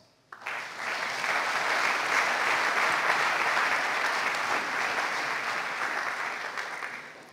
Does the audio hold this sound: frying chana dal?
no